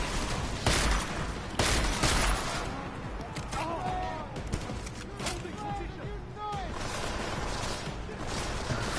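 Gunfire rings out in the shooter game Deus Ex: Mankind Divided: a few loud sharp shots and bursts echo amid ongoing combat noise while someone talks over it.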